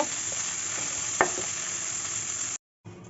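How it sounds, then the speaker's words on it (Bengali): Cauliflower pieces coated in turmeric and salt fry in hot oil, giving a steady close sizzle with a sharp stir or clink partway through, then a brief cut to near silence before the frying resumes. "এটা আমি একটু লাল লাল করে কিছু সময় ভেজে নিব"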